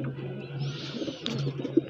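A pigeon, likely someone's old bird, coos softly on a rooftop in a short low murmuring phrase, close and alone with a faint click near the end.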